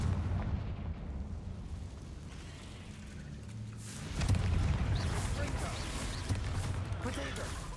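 Fire-spell explosions from the Confringo attack in Hogwarts Legacy, a dense rumbling roar with a heavier burst midway, continuing under game noise and a little speech.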